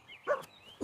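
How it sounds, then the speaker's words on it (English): A dog gives a couple of short, moderately loud barks in a story for children, one at the middle and another cut off at the end. "Woof, woof, woof."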